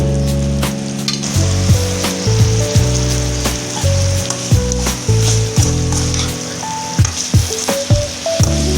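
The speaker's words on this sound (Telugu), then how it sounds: "కుక్కర్లో దీన్ని ఈ టమాటోల్లో వేసి బాగా కలుపుకోవాలి" Boiled broad beans being mixed with tomatoes and onions in a pressure cooker: a loud, constant sizzle and hiss with repeated scraping and knocking of a spoon against the metal, close by and no talk.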